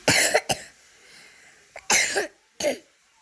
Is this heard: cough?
yes